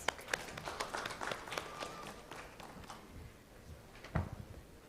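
Audience applause at a diabetes summit symposium, a modest, fairly faint scattering of claps that thins out toward the end with a few louder individual claps.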